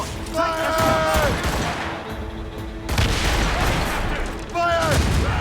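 Booming broadsides from sailing-ship cannons in an Assassin's Creed Rogue naval battle, a loud rolling barrage in two waves with overlapping blasts, while voices shout over the din.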